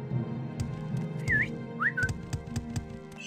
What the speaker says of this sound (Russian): Что там свистишь мне?